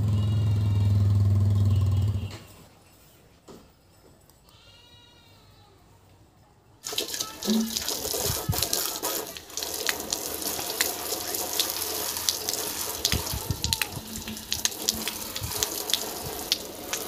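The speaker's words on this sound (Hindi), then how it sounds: "तो ये रहा मेरा बाइक, एंड चलिए पहले इसको धुलाई कर देते हैं।" Water from a hose sprays onto a motorbike being washed, a loud, broad, continuous hiss with spattering bursts, following a stretch of quieter background.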